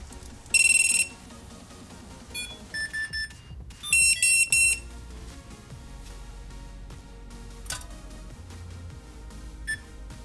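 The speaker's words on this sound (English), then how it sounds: "we should be able to plug this in and listen to some cool new beeps." Electronics on a newly built Beast Class FPV drone beep after the battery is plugged in. There are several short, loud, high-pitched tonal beep sequences, close by, separated by a quiet electronic hum.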